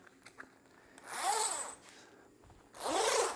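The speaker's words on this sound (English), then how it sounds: "Zips up well." Two quick, close zipper pulls run along a sewn fabric shower awning bag, each a rasping zip about half a second long, separated by a short pause with light handling noise.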